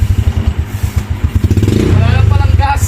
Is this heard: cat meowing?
no